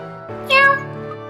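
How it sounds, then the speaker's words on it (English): A finely groomed black cat meows once in Professor Layton vs. Phoenix Wright, a single bright, fairly loud mew rising over soft game music. "A finely groomed black cat, I must say."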